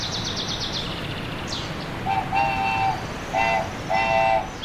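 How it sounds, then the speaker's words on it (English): A train whistle toots several times in short, bright blasts, fairly close, over a low rumbling background with a few higher chirps early on. "Ahead, a whistle tooted."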